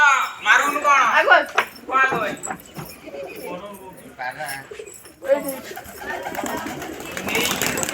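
Pigeons coo and flap near a person while wings flutter in bursts, mixed with close talking throughout.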